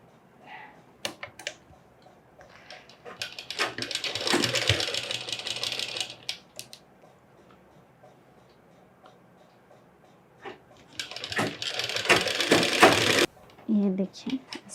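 A sewing machine stitches a boy's Pathani kurta in two sustained whirring runs of rapid needle chatter, separated by a pause, with a person talking around the bursts.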